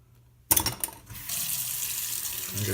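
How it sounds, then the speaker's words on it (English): Tap water runs from a faucet while a shoe-sole product is rinsed off. A few clattering knocks come first, then a steady rushing stream of water follows close to the microphone. "you can rinse it off. It is water soluble."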